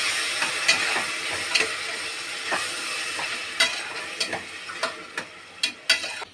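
Masala fried with curd in a pan for prawn biryani: a steady sizzling hiss broken by repeated scraping taps of a spoon stirring, close and clear with no talking.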